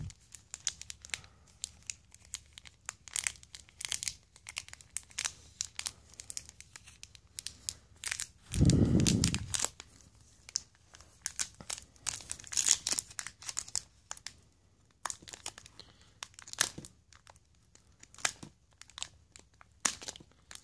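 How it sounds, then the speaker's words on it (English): Magic: The Gathering booster pack wrappers being torn open and crinkled close to the mic, with sharp crackling foil bursts throughout and one heavier crunchy rip in the middle, no talking. "We're gonna open the 2 booster packs now."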